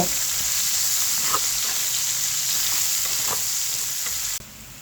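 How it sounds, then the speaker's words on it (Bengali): Chopped onion fries in a pan with oil, bay leaf, cinnamon, cardamom and green chillies, giving a steady close hiss with a few faint stirring scrapes before it cuts off near the end. "পেঁয়াজ কুচি পেঁয়াজটাকে একটু ভেজে নেব"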